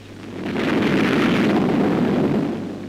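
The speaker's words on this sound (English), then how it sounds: "From rocky positions, enemy mortars shell our landing barges." A mortar shell explodes during the 1945 Iwo Jima landings, under fire from rocky enemy positions. One loud, rumbling blast swells and then fades over about three seconds, with a wash of low noise and no voices.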